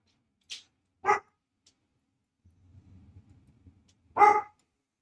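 A dog barks in a few sharp, separate yaps with long pauses between them, close and fairly loud, with a low, soft rumble of background noise in the gap.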